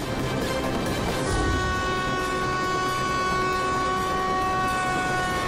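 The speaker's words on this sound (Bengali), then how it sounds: "এই লাইনের সামনে থেকে ট্রেন আসছে।" A train approaches in the animated cartoon Honey Bunny Ka Jholmaal: a steady rumble of wheels on track under long, sustained horn tones that hold at a constant loudness throughout.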